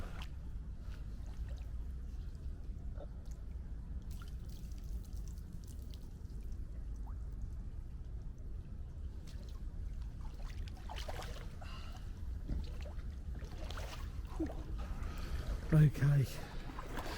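Steady wet sloshing and trickling of Wellington boots wading through water inside a historic tunnel in Kent, continuous and close, with occasional drips and louder splashes near the end.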